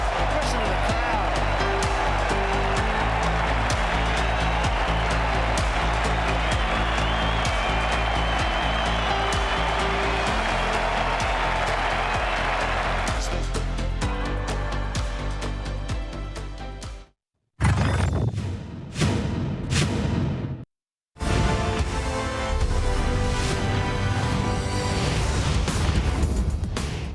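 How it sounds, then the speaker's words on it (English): A large cricket crowd roars and cheers loudly and continuously after an Australian victory, a dense sustained wall of applause and shouting that thins near the end, where brief gaps and broadcast voices break in. "Listen to the crowd."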